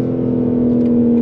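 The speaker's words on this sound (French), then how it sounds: "on sent bien que là c'est les roues arrière qui travaillent" A BMW M4 G82 Competition accelerates in Sport Plus mode: a loud, steady engine drone from inside the car, sustained and even through the short moment.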